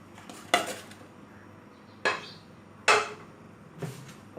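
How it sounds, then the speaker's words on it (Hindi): A fish being placed into a bowl for steaming, heard as four separate clattering knocks of the bowl and utensils on a hard kitchen surface, spaced about a second apart, close by and with no speech. "एक मैंने बाउल ले लिया है और अभी इसमें फ़िश ऐड कर देंगे"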